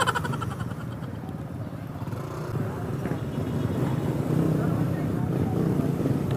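Large motorcycles rumbling on a bridge, a steady low engine drone that grows louder toward the end, with wind buffeting the microphone and someone talking over it.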